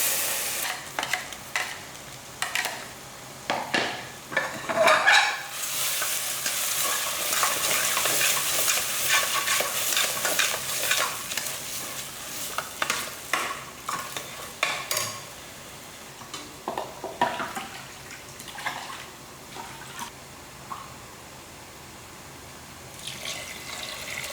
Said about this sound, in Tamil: இப்போ நம்ம அரைச்சி வச்சுருக்க விழுது எடுத்து இதில் ஊற்றிடலாம்